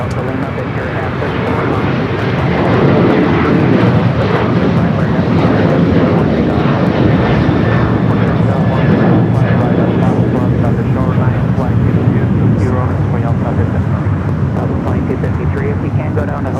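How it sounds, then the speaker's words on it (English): United Boeing 737-900ER jet taking off at LAX, a steady loud engine roar that holds for the whole stretch, broad and continuous. "Next takeoff is 737-900ER heading to Denver, flight 2061 with United."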